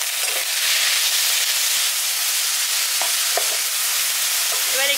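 Spiced bottle gourd stalks and potatoes are stirred in a hot pan, giving a steady loud sizzle and hiss with a few scattered scrapes of the spoon, close and with no voices.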